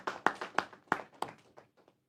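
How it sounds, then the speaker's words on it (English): Audience clapping at a public dialogue for World Wetlands Day, a short burst of about six sharp claps that quickly trails off into a few scattered taps, fairly close and not very loud, with no talking over it. "So can we clap for them?"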